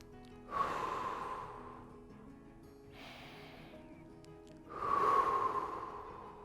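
Slow, deep breaths during a stretch, three drawn-out airy breaths close to the mic, quiet and unhurried, with a pause between each.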